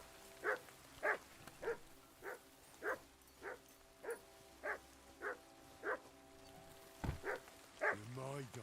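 A dog in the video game Kingdom Come Deliverance gives about a dozen evenly spaced, fairly quiet barks at a steady pace, ending with a few quicker, deeper yelps.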